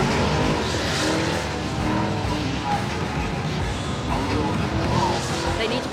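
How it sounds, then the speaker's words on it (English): Cars spinning donuts in the middle of a street, engines roaring steadily and loud throughout, with a continuous broad rumble and possible tire squeal, crowd voices mixed in. "they are literally doing donuts in the middle of the street"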